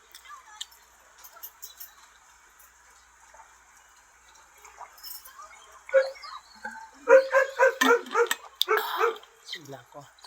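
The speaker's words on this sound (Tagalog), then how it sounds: "Kahol." A dog barks and yips a few times in a home, starting faint and growing louder near the end, with a person's voice and quiet background noise around it.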